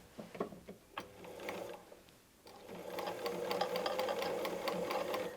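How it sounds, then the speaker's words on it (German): A sewing machine stitches back over an already sewn seam on a small patchwork fabric piece, with a brief run, a pause, then a steady rapid mechanical whir that continues close and alone. "wir nähen einmal über unsere schon genähte Naht"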